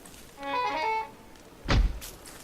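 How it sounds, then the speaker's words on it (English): A pig house is struck and broken open in the game Don't Starve: a short tonal creak or squeal first, then a single heavy wooden thunk with a brief rattling tail, heard close and alone. "Now I'm going to try to break open the pig house, hopefully within fire range."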